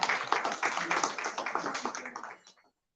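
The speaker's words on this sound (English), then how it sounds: "Please give a huge round of applause for our dignitaries." A small group clapping briskly for a couple of seconds, the applause tapering off and ending abruptly.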